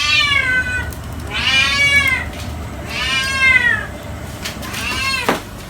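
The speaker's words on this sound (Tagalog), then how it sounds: "Ang ingay ng pusa." A cat meows loudly and insistently in a home kitchen during cooking, three long rising-and-falling cries close by, then a short sharp yowl.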